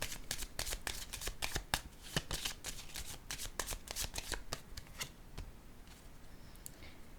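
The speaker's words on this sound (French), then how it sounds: "Je vais déposer une carte ici." Tarot cards being shuffled and handled for a reading, a rapid run of crisp flicking and riffling snaps that slows and thins toward the end, close and soft, no talk.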